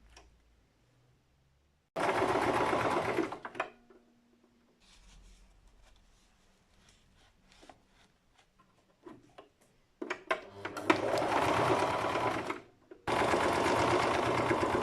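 Sewing machine stitching the inside of a fabric face mask with a shield, running in loud sustained bursts of rapid stitching separated by pauses with quieter handling sounds.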